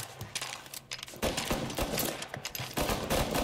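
Dense, loud gunfire from a first-person firefight in Mafia: Definitive Edition, repeated heavy blasts in quick succession with a chaotic, continuous barrage filling the whole stretch.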